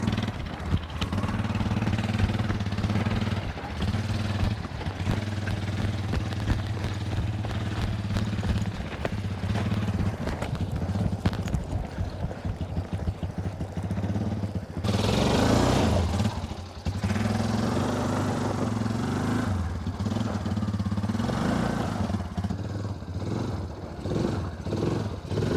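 A homemade mini 4x4 with a small engine runs steadily as it drives off on a trail, a loud continuous low drone with a brief rev swell midway.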